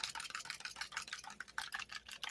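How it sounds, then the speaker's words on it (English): A fork beats a mac and cheese mixture in a bowl, giving a fast, steady run of light scraping clicks against the dish, close and fairly quiet, with no talking. "Just take that little fork. There you go. Blend it up real good."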